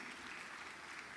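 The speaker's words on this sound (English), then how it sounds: "I think she deserves a better round of applause, please" Applause from an audience at a business community welcome address, a steady, fairly faint wash of many hands clapping for about a second without a break.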